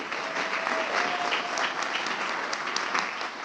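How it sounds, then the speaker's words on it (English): An audience at a pitch event gives a steady round of applause as a participant is introduced, dense continuous clapping at moderate volume with no talking over it. "Please give a round of applause to Josh Aaron."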